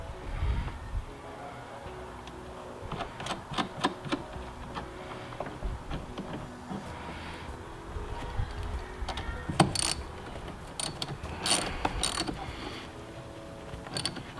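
Tightening the nut while fitting a Warn VR10S winch to a Jeep Wrangler JL, heard as intermittent clicking and ratcheting taps with small metallic creaks, spread irregularly across a quiet background.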